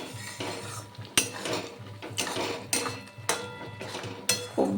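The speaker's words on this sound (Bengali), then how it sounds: "নেড়ে চেড়ে নেব, নাহলে নিচ দিয়ে হয়তো পুড়ে যেতে পারে।" A utensil scraping and knocking through ridge gourd mash in a pan, a few sharp metallic clinks spaced about a second apart over soft scraping and a faint sizzle, close-up, with no voices.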